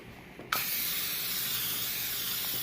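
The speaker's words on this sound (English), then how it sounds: "you spray the butter on the pan" A sudden, steady hiss of aerosol butter cooking spray onto a baking pan bursts on and continues evenly, loud and close.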